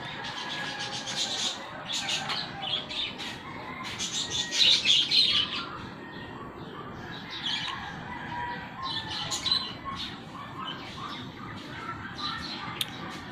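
Birds chirp and squawk on and off, with quick bright calls scattered over a soft, steady background hiss.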